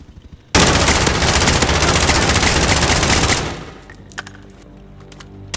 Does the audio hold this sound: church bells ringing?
no